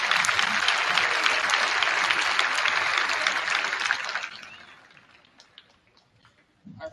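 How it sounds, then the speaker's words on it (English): Loud audience applause at a middle school cabaret concert honoring eighth graders, a dense sustained clatter of many hands that fades out over the last few seconds, leaving near quiet and a brief stir at the end. "let's give a round of applause for all our 8th graders and all their hard work throughout the year"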